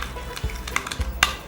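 Sunshine salad is tossed with lime juice and sugar in a bowl, giving a brief, close patter of soft scrapes and light clinks, with one sharper knock near the end and no talking.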